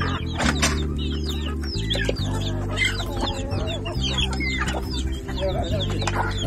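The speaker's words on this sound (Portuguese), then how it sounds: "Ó o tanto de galinha aqui," A flock of chickens clucks and squawks at a small rural farm during feeding, dense overlapping calls throughout over a loud steady mechanical drone, close and busy.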